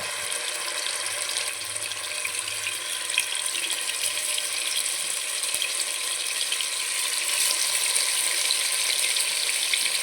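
Marinated fish pieces for fish biryani fry in hot oil, giving a steady, dense sizzle that holds at an even level throughout with no talking.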